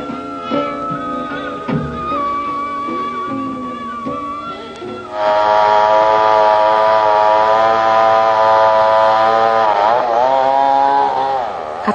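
A chainsaw used for felling timber drones steadily at first, then revs up sharply into a loud, sustained, high-pitched engine whine close by.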